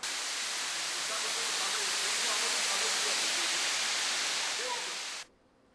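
A mountain waterfall in Adjara, Georgia roars as a loud, steady broadband rush of falling water, continuous for about five seconds before cutting off abruptly to faint background.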